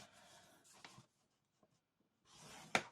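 A score tool drawn along paper while making a display box with an acetate window, two short close scratchy strokes separated by a pause, with a faint tap between them.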